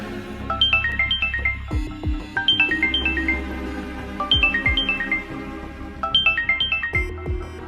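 A phone rings with a repeating melodic ringtone, several looping phrases of bright tones over a low sustained background, loud and steady with no talk.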